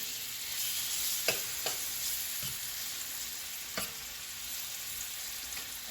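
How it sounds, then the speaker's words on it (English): Chicken pieces sizzling steadily in a hot pan for grilled chicken and peppers, a continuous frying hiss with a few sharp clicks and knocks from the pan, no talking. "I'm just going to knock this chicken off into the pan and we'll see how it goes."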